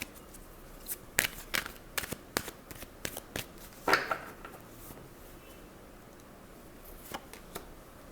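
Tarot cards shuffled in a quiet room, a run of sharp riffling snaps in quick bursts, a louder flurry midway, then a couple of softer riffles near the end, close and alone.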